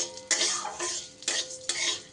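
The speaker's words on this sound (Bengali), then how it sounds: "মুগের ডালটা একটু ঘিয়ের মধ্যে আমি নাড়াচাড়া করে ভাজা করে নেব।" Moong dal stirred and fried in ghee in a pan, soft sizzling under three distinct scraping strokes of a spoon against the pan, fairly quiet and close.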